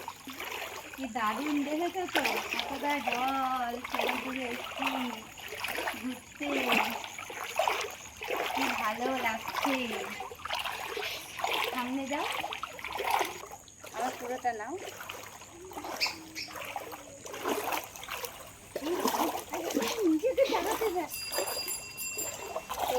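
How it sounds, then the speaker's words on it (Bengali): Footsteps splash and slosh through floodwater in front of a house, a repeated wet churning beneath a woman's near, continuous talking. "দেখো বাড়ির সামনে এরকম অবস্থা জলের মধ্যে হেঁটে হেঁটে"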